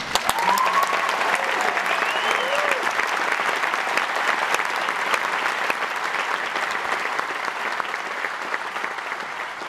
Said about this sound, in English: A round of applause for all the contributors, including the contributors who are here in the room tonight.